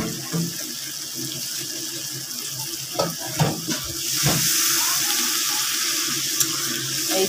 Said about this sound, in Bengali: তো আর একটু পানি দেব